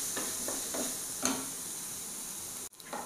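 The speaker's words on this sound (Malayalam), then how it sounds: "തക്കാളി ഒന്ന് വഴറ്റിയെടുക്കട്ടെ." Chopped tomatoes sautéed in a pan for a cabbage egg fry, giving a soft, low hiss of frying broken by a few quiet stirring scrapes.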